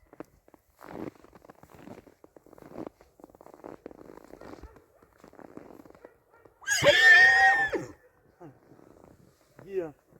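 A Percheron mare whinnies loudly nearby, a long quavering neigh following quieter shuffling and faint murmurs, then a brief snort.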